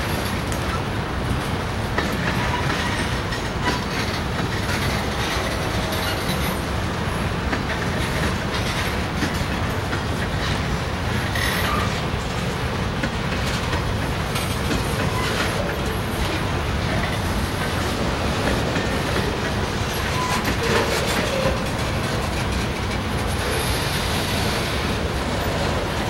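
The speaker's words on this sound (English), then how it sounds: "slowest train I've ever seen." A CSX manifest freight train departs Cincinnati, Ohio, its steady rumble and clickety-clack of railcars rolling continuously past at close range, loud and unbroken throughout with no talking.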